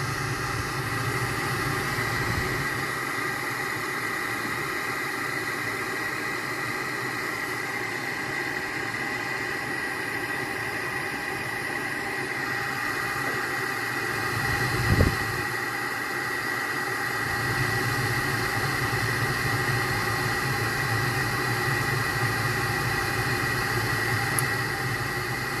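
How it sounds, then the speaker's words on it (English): The draft inducer motor on a Lennox gas furnace runs with a steady, even mechanical hum and whine, close by and continuous, with one brief thump partway through. "There's our inducer."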